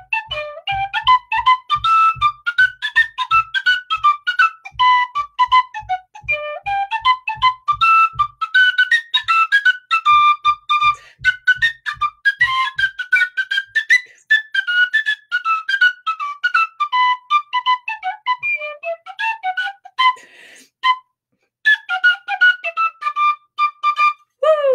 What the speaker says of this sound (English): There you are, a little bit of tin whistle.